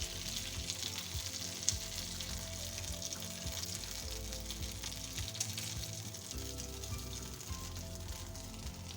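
Chicken malai boti on sticks sizzles and fries steadily in a hot pan, a continuous close crackle with no talking.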